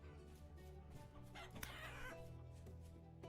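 Chickens clucking and a rooster crowing in the medieval survival game Vintage Story, fairly faint farmyard calls with one brief louder crow near the middle, no talk.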